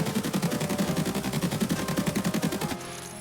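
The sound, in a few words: AKS-74UB firing BS rounds in Escape from Tarkov, video game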